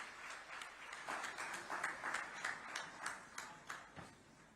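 A hall crowd applauds to welcome the Chief Minister at a state workshop event in Raipur, with steady, moderately distant clapping that runs throughout and ebbs slightly toward the end.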